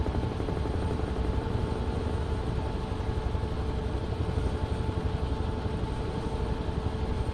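A Huey helicopter in Microsoft Flight Simulator 2024 flies with a constant rotor thrum and engine whine, steady and fairly quiet, with no talk over it.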